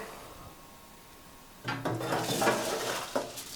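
A metal smoker lid set down over pork ribs: a clattering metallic clank followed by scraping and rattling as it settles, a second knock near the end, close and fairly quiet.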